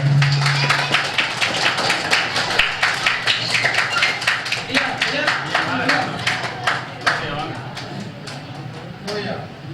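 A seated audience clapping at a temple-astrology gathering, a rhythmic burst of many hands with distinct individual claps, fairly close, gradually thinning toward the end with some background murmur underneath.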